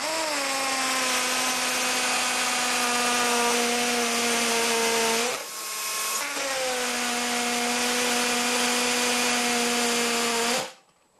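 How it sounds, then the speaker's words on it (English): Hammer drill boring into a wooden table, a loud steady high-pitched whine held for several seconds, a brief dip as it slows and restarts, then cutting off abruptly at the end. "Preferably you have a drill with hammer action."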